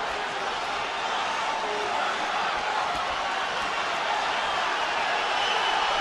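A boxing arena crowd at a Canelo Alvarez vs Gennady Golovkin fight roars steadily near the end of the bout, a loud, unbroken wall of cheering that swells slightly toward the close.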